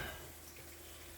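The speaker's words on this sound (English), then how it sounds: "The chicken's frying." Quiet, steady sizzling of chicken frying in a pan for chicken Marsala, a soft continuous crackle with no talking.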